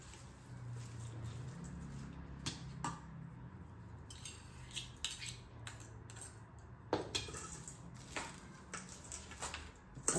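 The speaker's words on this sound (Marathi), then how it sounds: "आधी मी सगळं हे मिक्स करून घेते." A spoon stirs little millet lemon rice with tempering in a pot, giving soft, faint scrapes and irregular metallic clinks spaced through the stretch, with no talk.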